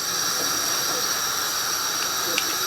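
A stove burner turned back on under a pot of dried greens cooking in peanut butter gives a steady broadband hiss like rushing gas flame, constant and fairly loud, with a faint tap near the end.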